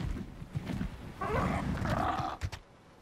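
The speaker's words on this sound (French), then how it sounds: "Oh, un chien." A dog in the video game ARK Survival Ascended lets out rough growling, snarling vocalizations that swell in the middle, over game ambience with scattered footstep-like thumps and no speech.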